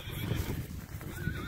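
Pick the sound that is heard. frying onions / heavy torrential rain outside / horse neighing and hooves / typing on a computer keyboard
horse neighing and hooves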